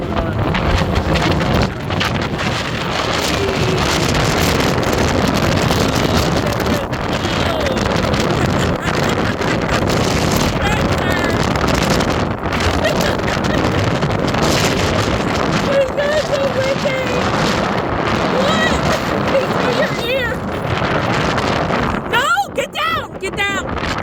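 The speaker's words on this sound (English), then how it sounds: "Boy, that was some wind! That was some wind we had!" Strong wind gusts roar across the microphone outdoors during a ride with handlebars, a loud, continuous buffeting rumble lasting over twenty seconds before breaking off near the end.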